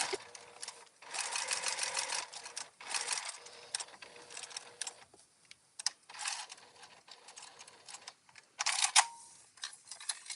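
A sewing machine stitches a curved seam in bursts, running for a second or two at a time and pausing between runs as the fabric is guided slowly, close and fairly clear.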